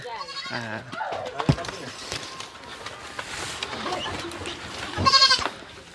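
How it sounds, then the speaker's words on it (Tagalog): Several goats bleat in short wavering calls, near and fairly loud, beside a farmyard hut, with a person talking quietly in the background. "Wow, ang daming kambing."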